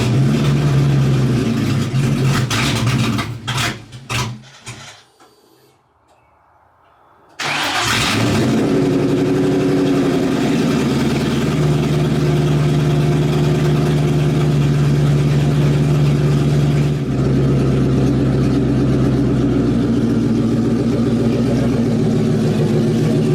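A car engine cranks and catches, briefly cuts out, then settles into a steady, loud idle that runs on without talk.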